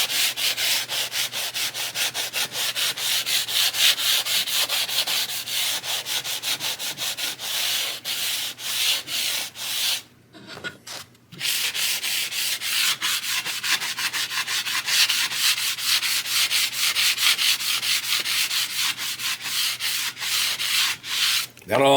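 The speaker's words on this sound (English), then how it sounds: "instead of taking a file and rounding them all off, I'm just going to take this sanding pad right here" A sanding pad rubs back and forth over the fret ends of a cheap Stratocaster-style guitar neck, a rapid rhythmic scratching that runs steadily with one short pause midway and no voices.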